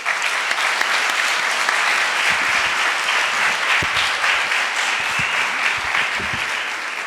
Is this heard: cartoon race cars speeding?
no